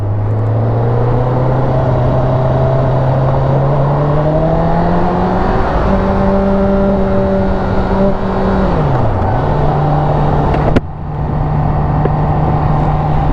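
A 2021 Honda CBR1000RR sport motorcycle pulling away from a stop: a loud, close engine drone whose pitch climbs steadily, dips briefly at a gear change near the end, then carries on, heard alone.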